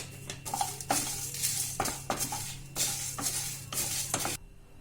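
Whole spices, cloves among them, roast in a pan over a low flame for Chettinad chicken curry. Rhythmic, close scraping and clattering stirring strokes repeat over a faint sizzle, then stop abruptly; there is no speech.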